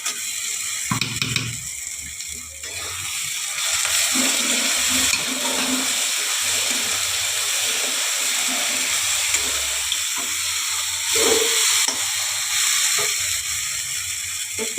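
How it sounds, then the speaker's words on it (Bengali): A paste of mustard, white mustard and poppy seed hits a hot pan and sizzles, bursting loud and close at first, then settling into a steady hiss with occasional stirring clinks. "বন্ধুরা এখানে সর্ষে, সাদা সর্ষে আর পোস্ত আছে, এই বাটাটা আমি পুরোটাই দিয়ে দেবো।"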